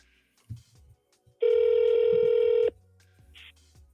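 A telephone rings on an outgoing call, one steady electronic ring tone lasting just over a second, loud and close, set between short clicks and quiet gaps.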